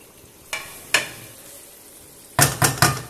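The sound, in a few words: Lahori chicken karahi sizzling while cooking in the karahi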